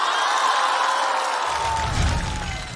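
A studio audience at a stand-up comedy show claps and cheers for the next comedian, a loud sustained wave of applause with whoops that carries on throughout.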